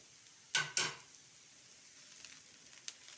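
Chopped onion and dried chili powder hit hot oil in a pan, giving two sharp sizzling bursts close by, followed by a quieter, steady frying hiss with a faint clink.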